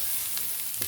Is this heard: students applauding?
no